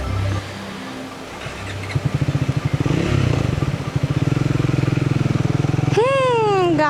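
A motorbike with a fault, starting only in neutral, on an offbeat route near a waterfall: the engine chugs and sputters unevenly with pulsing firing beats, ending in a whining, falling rev, with a voice heard.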